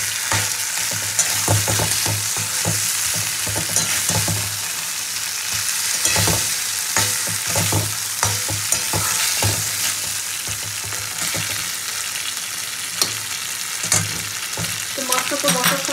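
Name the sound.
koi fish frying in spice masala in a pan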